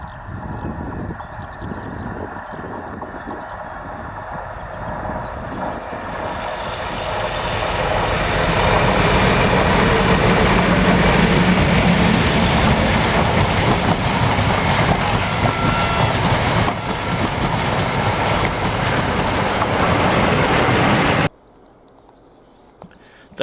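Class 56 diesel locomotive 56051 Survival hauls a train out of Foley Park Tunnel, a heavy rumble swelling from distant to close and loud, then cutting off abruptly.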